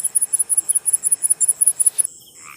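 A cricket chirps in a steady run of about fourteen sharp, evenly spaced pulses for two seconds, close and clear, then stops, leaving a faint background hiss with a short higher tone at the end.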